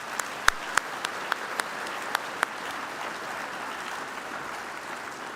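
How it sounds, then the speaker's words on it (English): Sparse, scattered handclaps at a breakfast awards event ring out over a room's background hum, a handful of distinct claps that quickly fade away. "Let's give them all another round of applause."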